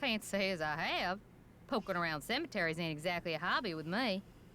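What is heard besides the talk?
None of the usual background noises is heard.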